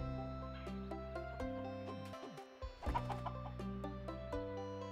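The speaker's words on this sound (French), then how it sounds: "on caresse la poule." A chicken in the Octopia DLC for Eastward on Nintendo Switch clucks as it is petted. Several short clucks ride over steady, melodic background game music, briefly busier in the middle.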